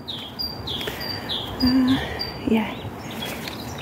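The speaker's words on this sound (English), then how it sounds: "Birds are singing." Several birds sing and chirp outdoors in early spring, with repeated high whistled calls scattered across the stretch over a steady background hiss, while a person speaks briefly nearby.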